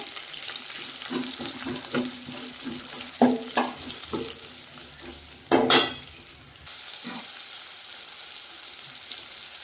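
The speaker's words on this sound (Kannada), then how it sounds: "ನೋಡಿ, ಸ್ವಲ್ಪ ಈರುಳ್ಳಿ ಫ್ರೈ ಆಗಬೇಕು." Long-sliced onions fry in a pan for puffed rice upma, giving a steady close sizzle broken by scraping stirs and a couple of louder clattering bursts, then settling back to an even hiss.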